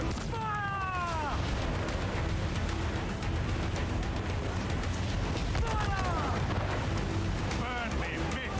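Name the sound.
ship cannon fire in Assassin's Creed 4 Black Flag video game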